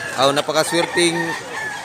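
A Cebu gamefowl rooster of the Doctor Blues bloodline, yellow-legged, gives a short run of loud, close clucks and calls in quick succession, ending in one drawn-out note.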